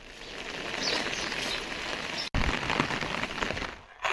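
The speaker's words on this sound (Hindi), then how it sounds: "3 दिन से लगातार हो रही बारिश से पहाड़ में लोग काफी परेशान दिख रहे हैं" Heavy, steady rain falls continuously in the hills of Bageshwar, Uttarakhand, a dense close hiss of drops on surfaces with one brief break near the middle and a short dip near the end, no voices.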